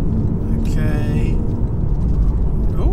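A 2022 Lexus UX250h compact hybrid SUV accelerating out of a corner, with a steady engine and road rumble running under continuous talking from inside the cabin.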